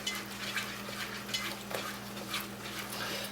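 Melting dipping sauce stirred steadily in a pan over heat for BBQ pulled pork croquettes, with a soft continuous scraping and faint sizzle, close and fairly quiet, no talking.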